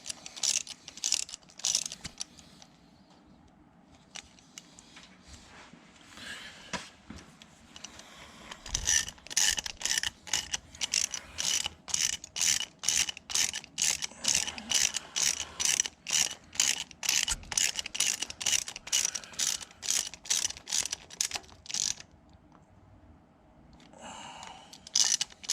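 A hand ratchet tightening balancer bolts for a Procharger pulley on a 2012 Hemi 1500: long runs of steady, even clicks from close up, pausing briefly between strokes.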